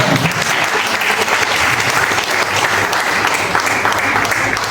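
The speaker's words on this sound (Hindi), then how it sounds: "मैं चाहता हूँ कि ये दोनों काउंसिलर को उत्साहवर्धन के लिए एक जोरदार तालियां हो सकता" A loud, continuous burst of clapping from the audience at a community health awareness programme, honoring two counsellors, dense and steady from start to finish.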